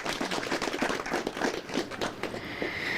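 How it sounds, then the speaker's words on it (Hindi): Audience at a Kisan Cup farmers' event clapping for the winner, a short burst of scattered, moderately loud handclaps from a small crowd. "बिल्कुल तालियां तो बजाइए।"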